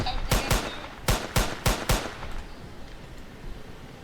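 Six sharp gunshots from a Roblox survival game ring out in a quick, uneven burst over about two seconds, then a low hiss of game background lingers with no voices.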